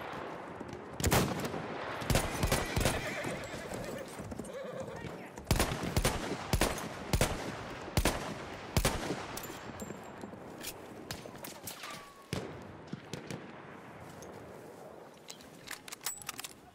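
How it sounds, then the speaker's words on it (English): Machine gun fire in a Battlefield 1 battle, several sharp bursts of rapid shots with scattered single cracks in between, loud and close, over a busy background of battle noise. "Machine gun right there!"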